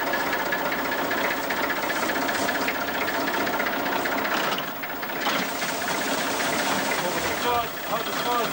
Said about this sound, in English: Now if you could start up the tractor for